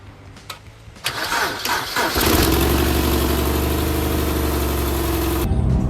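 A BMW N46 four-cylinder petrol engine with a newly replaced timing chain cranks for about a second, catches and settles into a loud, steady close idle, then is switched off; no speech.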